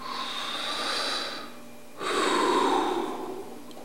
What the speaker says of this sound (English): I breathe in and I breathe out clean air.